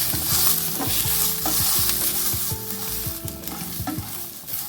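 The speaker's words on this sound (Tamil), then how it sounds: "இது அப்படியே கொஞ்ச நேரம் பொறிச்சு எடுத்துக்கலாம்" Tamarind frying in a pan for a thuthuvalai chutney, a loud, close sizzle with clattering stirring strokes repeating in a steady rhythm.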